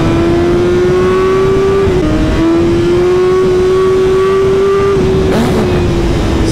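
A 2023 BMW M1000R motorcycle accelerates hard, its engine note rising steadily through the gears with quick shift dips in between, loud and close throughout.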